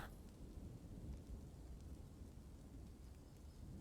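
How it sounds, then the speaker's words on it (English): Steady rain and rumbling thunder from the Dwarf Fortress Steam Edition game, a continuous broadband wash that fills the whole stretch, fairly quiet and unbroken with no voices. "It has started raining. Yeah, I could tell by the sound."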